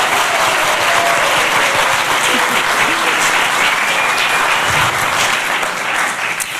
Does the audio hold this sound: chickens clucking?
no